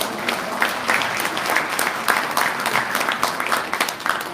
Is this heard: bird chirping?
no